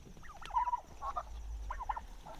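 Heritage breed turkeys coming in for food gobble in several short, rapid bursts close by, over a low rumble of background noise.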